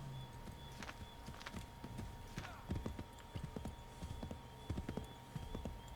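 Irregular clip-clop of horse hooves at a walking pace in Assassin's Creed III, fairly close, over a quiet background with a faint steady hum.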